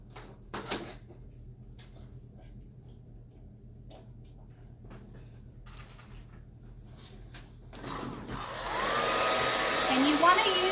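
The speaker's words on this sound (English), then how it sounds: "I think I might run the hairdryer over them real quick" After some quiet rustling and clicks, a hairdryer switches on and blows steadily at close range, drying freshly painted DIY fall pumpkins with a loud, continuous whoosh.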